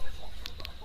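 Chickens on a poultry farm give a couple of short, sharp clucks over a low background hum, moderately close and brief.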